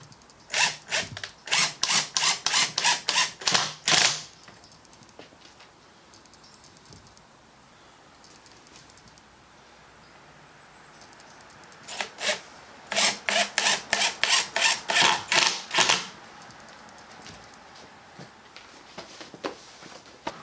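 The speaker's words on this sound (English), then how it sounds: "drive some screws in there to act like clamps" Screws are driven into an antique oak dining table with a power driver, two close bursts of rapid rhythmic ratcheting clicks separated by a quiet stretch of faint background noise.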